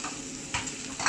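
Meat sizzles in a pan for a beetroot and meat dish, with a steady frying hiss and two brief bursts of louder stirring and scraping.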